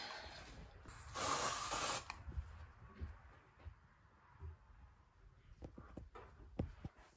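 An aerosol spray can hisses in one strong burst of about a second during camera cleaning, followed by quiet handling clicks and small mechanical sounds nearby.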